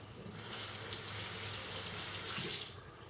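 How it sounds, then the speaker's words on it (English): A mango is washed under a running kitchen tap, with water gushing and splashing steadily and close by, swelling slightly as the fruit moves through the stream. "So just go ahead and wash it off."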